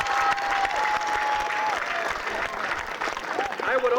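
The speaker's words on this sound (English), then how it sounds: "Let's give them an applause." Audience at a 1997 UCSB graduation ceremony applauding, a dense wash of clapping from a large crowd, steady and sustained with a few cheers and voices mixed in.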